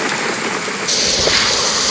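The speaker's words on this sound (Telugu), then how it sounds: "బాగా వర్షం పడుతుంది" Heavy rain pours down steadily as a continuous broadband wash of falling water, loud and close, growing slightly stronger partway through with no speech.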